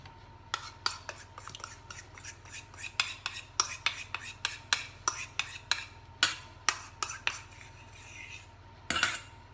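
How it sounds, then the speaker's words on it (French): Cookie dough with egg and yogurt is stirred in a bowl, a quick run of sharp, close utensil clicks and scrapes against the sides, ending in a louder rattling flurry. "Et là, vous remuez."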